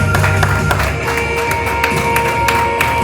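Worshippers in a church service applaud and cheer, a thick continuous layer of clapping and crowd voices with sharp individual claps standing out, steady and loud from start to finish.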